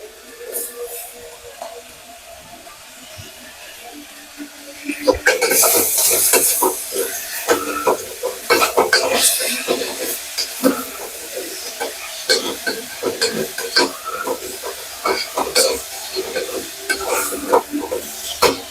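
Tomatoes drop into a hot pan for tomato rice, and a loud sizzle follows, with frequent stirring scrapes over continuous frying hiss.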